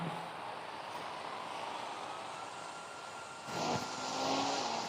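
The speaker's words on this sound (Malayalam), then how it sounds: "ഹെലികോപ്റ്റർ അല്ല, അത് പ്ലെയിൻ." An airplane in the video game Indian Bike Driving drones overhead as a steady, moderate engine hum, swelling slightly louder toward the end.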